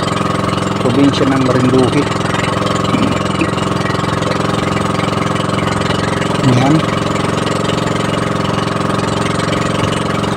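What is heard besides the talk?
boat motor engine running loudly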